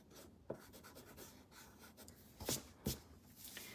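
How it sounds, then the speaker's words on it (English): An eraser rubs over pencil lines on paper, producing quiet, close scrubbing strokes with a few louder brushes toward the end, no voices present. "I can go back with my eraser and erase my"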